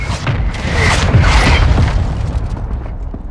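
Mortar explosions in the Call of Duty: Modern Warfare II video game: a loud, deep rolling boom that swells and rumbles for a couple of seconds before slowly fading, with no talk.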